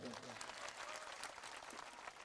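Audience at a poetry recital in Ahladpur, Kushinagar, applauding after a poem: a dense, sustained burst of many hands clapping, fairly distant, with a voice briefly audible at the start.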